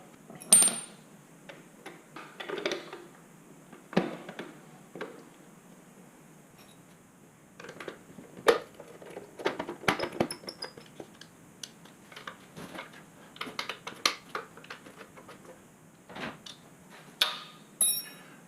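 Quiet, scattered metallic clicks and clinks come from a Fuel wheel hub cap being refitted with Allen bolts and an Allen wrench, sounding close and intermittent with short pauses between taps.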